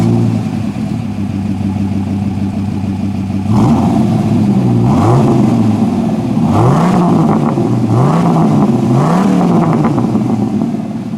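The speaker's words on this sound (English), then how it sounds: "Previous owner also put a MagnaFlow exhaust on here, so while we're back here, we might as well listen to it." A Dodge Ram SRT10 pickup's Viper V10 engine with a MagnaFlow exhaust idles, then is blipped through a string of sharp, loud revs that rise and fall one after another.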